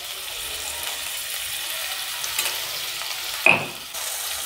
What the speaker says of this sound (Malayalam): മീഡിയം സിമ്മിൽ വെച്ചിട്ട് ജസ്റ്റ് വഴറ്റി എടുക്കുക.